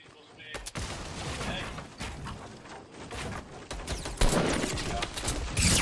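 Gunfire in a Fortnite match comes as repeated bursts of shots and impacts over a busy, continuous game soundscape, with players' voices mixed in.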